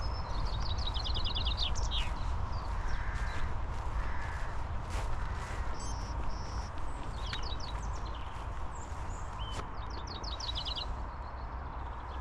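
Bird calls and chirps repeat in short bursts over steady outdoor background noise and a low rumble on the Jurassic Coast, fairly distant.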